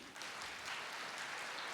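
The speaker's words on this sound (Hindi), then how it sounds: "ताली तो बजाओ अपने लिए" An audience claps together at a Hindi spiritual talk, a steady wash of applause close by, with no voices over it.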